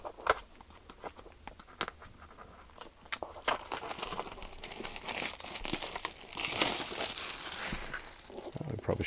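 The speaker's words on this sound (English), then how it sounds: "Plastic wrap." Plastic wrap crinkling and tearing as it is pulled off sealed packaging for an IBM PCjr keyboard cable, close and fairly quiet, with irregular crackles building toward the end.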